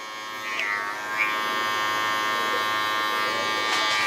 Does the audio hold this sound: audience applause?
no